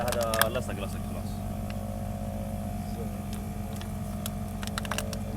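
A boat's outboard motor runs steadily at close range with a constant low drone through the whole stretch, while a few clicks and faint voices sit on top.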